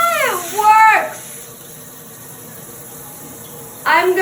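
A newly installed shower head runs with a soft, steady hiss of flowing water, heard between bursts of excited talking at the start and end.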